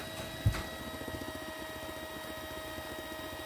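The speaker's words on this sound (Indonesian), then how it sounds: "Untuk mixernya sendiri ya, aku gunakan kecepatannya sedang, nggak pakai kecepatan tinggi" An electric hand mixer runs at medium speed, beating eggs, emulsifier and sugar for a coconut-milk sponge cake, giving a steady, fairly quiet motor whine with a soft rhythmic churning and a brief knock near the start.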